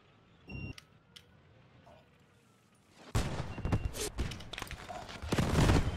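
Machine gun fire in a Girls und Panzer tank game: a few sharp isolated cracks early on, then a dense loud burst of rapid shots and impacts in the second half.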